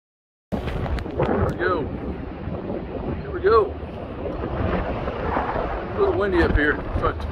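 Strong wind on a mountain on the Pacific Crest Trail buffets the microphone in a steady low roar with gusts, while a voice speaks intermittently underneath the blustery rumble.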